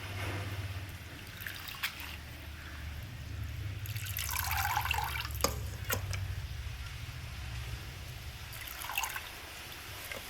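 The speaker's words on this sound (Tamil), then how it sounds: "அதனால் கீரையை நல்லா கழுவிடுங்க." Spinach greens being rinsed by hand in a basin of water, with soft trickling, dripping and sloshing at close range that swells around the middle and again near the end, with no talking.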